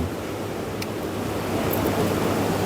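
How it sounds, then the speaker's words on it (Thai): Sea waves washing onto the shore at Koh Kood, Trat, on a cool morning beside the water; a steady, even wash of surf with low rumble and a faint breezy hiss, continuous and moderately loud, with no talk. "ฟังเสียงคลื่น"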